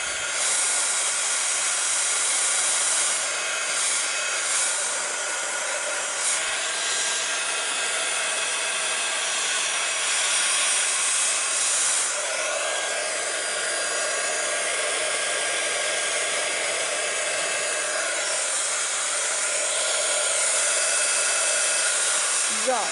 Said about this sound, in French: pour accélérer, je passe un coup de mon pistolet à chaud